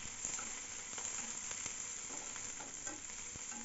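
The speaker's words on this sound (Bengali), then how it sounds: "এরকমভাবে বারবার নাড়াচাড়া করে মিডিয়াম আঁচে পেঁয়াজগুলো ভালোভাবে ভেজে নিতে হবে" Two large chopped onions fry in a pan over medium heat for an egg masala, giving a soft, continuous sizzle with faint scraping from repeated stirring and no voices.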